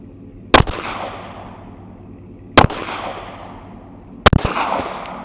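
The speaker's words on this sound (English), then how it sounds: "give me like 4. Nice individual shots each" Pistol fired at a target in three well-separated, loud, sharp single shots, each followed by a decaying echo, with pauses of one to two seconds between them.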